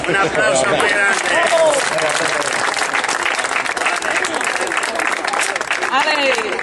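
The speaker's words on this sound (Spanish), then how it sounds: "¡Un aplauso muy grande!" Enthusiastic applause at a fan gathering in Villarrubio, loud continuous clapping from a crowd with shouting voices mixed in.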